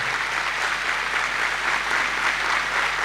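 Steady, dense applause from a crowd at a Catholic charismatic renewal gathering, an even wash of clapping that holds without a break for a few seconds.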